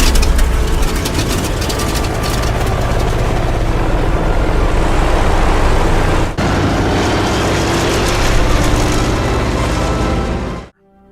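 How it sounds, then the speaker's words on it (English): A Zero fighter aircraft powered by its original Nakajima Sakae engine gives off a loud, continuous propeller drone that holds steady and close for about ten seconds. It then cuts off abruptly. "this particular Zero is the last in the world that is powered by its original Nakajima Sakai engine"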